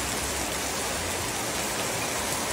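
Heavy rain pours steadily in a dense, unbroken hiss, close and loud throughout with no voices.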